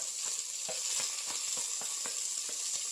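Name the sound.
chopped onion and green chilli frying in a pan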